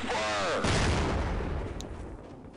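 A tank cannon in the video game Half-Life: Echoes fires a single, very loud blast that rolls off into a long, fading rumble.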